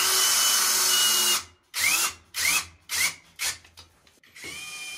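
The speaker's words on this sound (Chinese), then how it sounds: "这个螺丝比较粗，手电钻都干不动了。" An electric hand drill drives a thick screw into a tight wall anchor for a TV mount, one long whining run, then four short straining bursts with pauses as it stalls.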